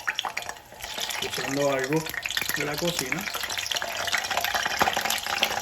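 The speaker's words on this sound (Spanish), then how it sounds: "So you gotta be careful here because it might splatter." Breadfruit slices for tostones frying in hot oil, a steady crackling sizzle with spattering pops throughout, while a person speaks over it.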